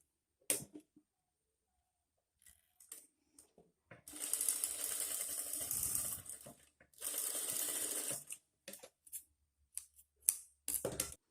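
An industrial high-speed sewing machine stitching elastic thread runs in two sustained bursts with a whirring mechanical buzz, framed by scattered clicks and handling taps before and after.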